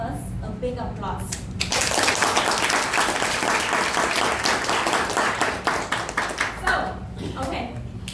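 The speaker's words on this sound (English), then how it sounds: "So let's give all of us a big applause." Loud applause from a Toastmasters club meeting audience rises sharply and sustains as dense clapping, tapering near the end, with talk heard before and after.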